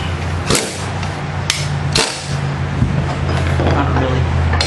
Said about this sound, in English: I'm just going to snug it up with the impact gun